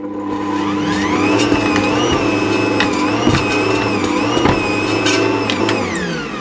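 An Ankarsrum stand mixer kneading Detroit-style deep pan pizza dough gives a steady motor whir with a low rumble and harmonic hum, continuous and close, with faint knocks and shifts in the drone as the dough turns.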